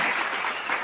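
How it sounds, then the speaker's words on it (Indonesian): Applause sound effect: dense, steady clapping that fills the whole short moment at moderate loudness, with no voices over it. "Tepuk tangan dong."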